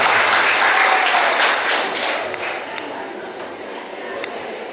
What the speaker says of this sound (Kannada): ಜೋರಾಗಿ ಚಪ್ಪಾಳೆ ತಟ್ಟಿ